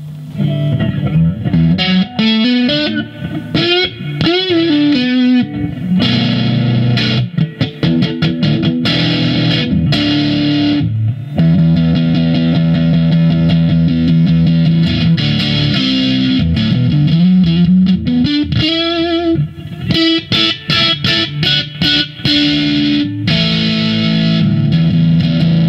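Electric guitar through a BOSS XT-2 Xtortion fuzz distortion pedal on the neck pickup with a little reverb, sustained buzzy notes and bends alternating with choppy riffs, loud and continuous with no talking.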